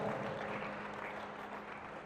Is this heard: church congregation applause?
yes